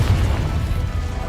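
A Confringo spell explosion in Hogwarts Legacy gives a brief, loud, low-heavy boom and rumble.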